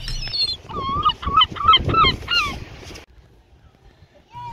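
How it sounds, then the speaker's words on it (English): Seagulls on a Margate beach call close by, a burst of harsh, repeated squawking cries for about three seconds, then a brief lull before one more call starts. "What would a beach be without territorial seagulls looking to snag a chip?"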